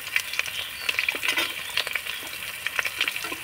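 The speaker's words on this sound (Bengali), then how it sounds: "গাজরটা হালকা করে নাড়াচাড়া করে একটু ভেজে নেব" Carrots cut into long strips are stir-fried in a pan for chow mein. Close, steady crackling and sizzling mixes with light, irregular stirring scrapes, and no one speaks.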